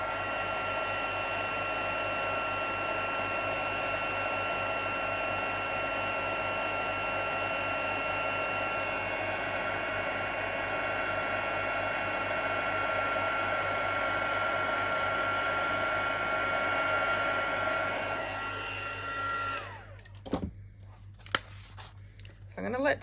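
A heat gun melting embossing powder on a Christmas treat box design, blowing a steady, loud whirring roar that holds for nearly twenty seconds before it cuts off, leaving a few faint handling clicks.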